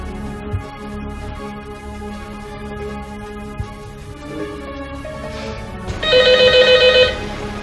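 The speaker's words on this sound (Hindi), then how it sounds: "हेलो हेलो, फोन करते तो बोला नहीं करो" A telephone rings in a steady electronic trill for a second or two, following a stretch of quiet background music.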